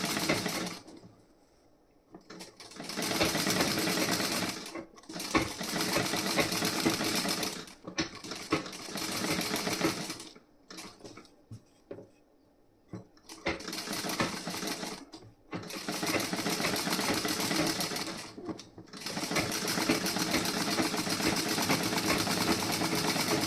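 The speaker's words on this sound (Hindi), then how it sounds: "अब यहाँ पे मैं एक कच्ची सिलाई लगाऊंगी, उसके बाद ये डॉट पे सिलाई लगाऊंगी।" A sewing machine running a loose basting stitch on a blouse: several close, steady whirring bursts of stitching separated by short pauses for repositioning the fabric, with no one talking.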